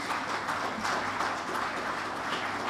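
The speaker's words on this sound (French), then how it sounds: "applaudissez pour le révérend Moon et son épouse" Audience applause at a public religious celebration honoring Reverend Moon and his wife, a steady, dense wash of clapping from a crowd that holds an even level throughout without a break.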